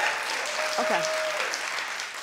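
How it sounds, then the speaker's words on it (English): A television talk show studio audience claps in a short, steady burst while a voice briefly sounds through it. "Clap if you watched Jersey"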